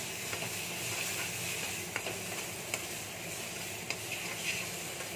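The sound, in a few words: frying bottle gourd seed paste in a pan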